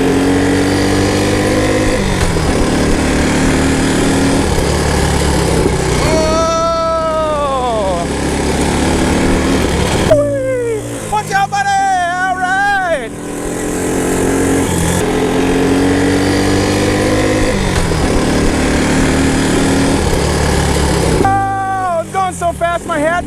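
An old, previously abandoned Honda three-wheeler's small engine runs while driving laps, loud and close, its buzzing note sweeping up and down repeatedly as the throttle opens and eases off through turns.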